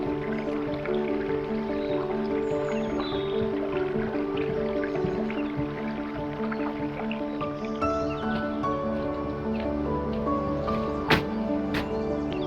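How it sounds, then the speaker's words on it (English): A small woodland stream in Wigan carries only a little water, trickling and dripping steadily and close by for the whole stretch, with no one talking. "there does seem to be a little bit of water in the stream"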